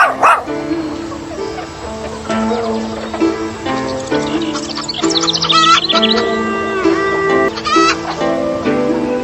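A dog barks and yips amid a busy mix of music-like tones and bird chirps, the barks short and spaced through the clip at moderate loudness.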